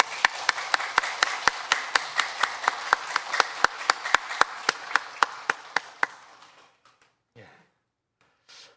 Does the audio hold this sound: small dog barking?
no